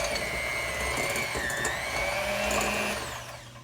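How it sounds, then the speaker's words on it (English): A small electric hand mixer whirs loudly and steadily at close range while mixing herb butter for turkey, its motor pitch dipping slightly under load before it winds down; no one speaks. "take my mixer here, a little hand mixer"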